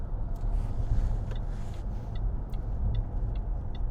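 A 2010 Range Rover Sport 3.0 TD V6 HSE cruising on the road, heard from inside the cabin as a steady low engine drone and tyre rumble with faint ticking clicks, no talking.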